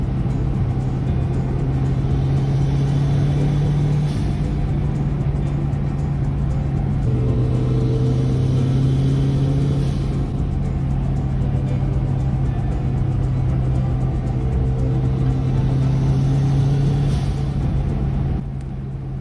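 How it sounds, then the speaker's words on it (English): A Mazda Miata engine hums at a steady cruising pitch with road rumble, holding even throughout with slight rises in revs. "Nice cruising RPMs in the Miata."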